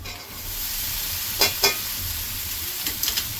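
Onions and bitter gourd (karela) frying in a pan, a dense continuous sizzle close by, with a few sharp stirring clicks against the pan and no voices.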